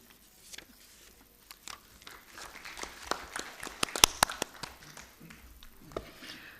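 A small audience at the ICSE India 2019 keynote plenary session applauds: scattered, sparse claps build into a brief patter of clapping before thinning out.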